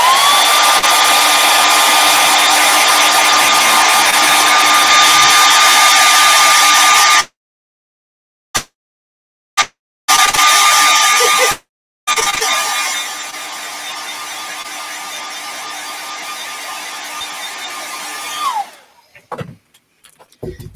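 A heat gun blows a steady, loud, whining hot-air roar while heat-setting painted eyes on a fishing lure. It cuts out abruptly mid-way with a few brief restarts, then runs again before winding down.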